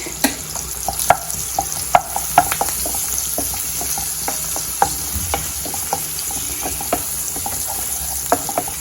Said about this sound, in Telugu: పచ్చివాసన పోయేదాకా వేయించుకోవాలి